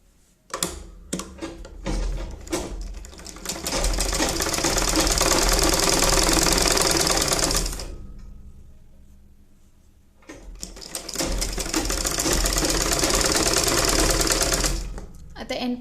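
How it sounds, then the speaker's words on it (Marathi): Sewing machine stitching a baby cap, running in two long steady bursts with a short pause between, loud and close, with a few brief clicks at the start. "चला आता स्टिच मारून घेऊयात."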